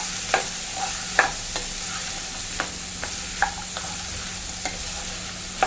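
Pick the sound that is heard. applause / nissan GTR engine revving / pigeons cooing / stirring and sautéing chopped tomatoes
stirring and sautéing chopped tomatoes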